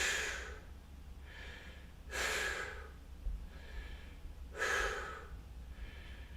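Deep, slow breaths during a guided mobility exercise, with two strong airy inhalation-exhalation swells and softer breaths between, close and quiet over a low background hum.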